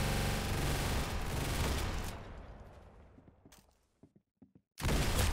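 Gunfire in the Roblox video game, a loud sustained burst of rapid shots that fades away, followed by a few scattered clicks and a sudden loud return of firing.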